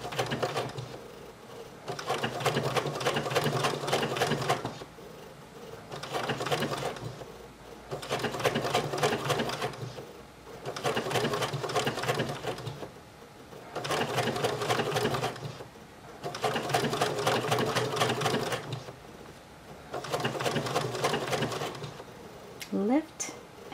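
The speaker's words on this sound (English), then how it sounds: "So I'm just taking slow stitching steps and just lifting my presser foot and" A sewing machine stitches embroidery in short bursts of rapid whirring, each lasting a second or two, with brief pauses between them while the presser foot is lifted and the work is pivoted. The sound is close and moderately quiet.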